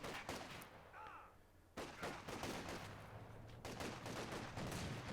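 Rapid bursts of MG42 machine gun fire ring out amid other gunfire in the Company of Heroes 2 battlefield, layered with explosions and a constant low rumble.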